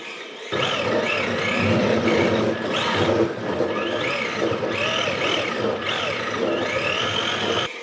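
Traxxas 4-Tec RC drift car on soft tires running laps on an epoxy floor in a tight indoor space, its small electric motor whirring steadily with rising and falling pitch as it accelerates and blips, alongside someone talking.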